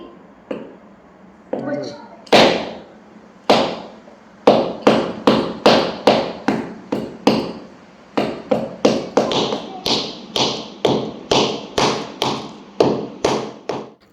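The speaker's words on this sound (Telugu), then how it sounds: "నాకైతే ఇప్పుడు తురుము తీయటానికి చాలా గట్టిగా ఉందండి అందుకనేసి ముక్కల కింద కొట్టేసి మిక్సీ పట్టేద్దాం అనుకుంటున్నాను" Hard jaggery is pounded into chunks, giving a string of loud, sharp thuds close up. A few are spaced out at first, then a steady rapid run of blows follows with brief pauses.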